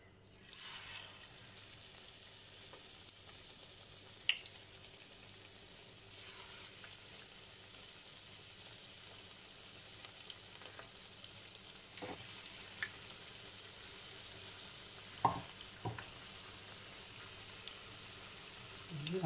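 Chillies for chilli bajji frying in hot oil, a steady soft sizzle with occasional small pops and crackles, heard alone at low volume.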